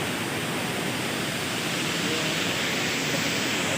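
Secret Falls in Dona Remedios Trinidad roars as a dense, unbroken wash of falling water, loud and steady from start to finish with nothing else standing out.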